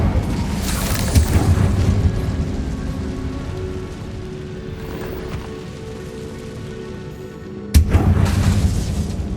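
A spell-casting burst from the Incendio fire charm in Hogwarts Legacy, a loud booming whoosh near the start and another sharp burst near the end, with a rumbling crackle between them.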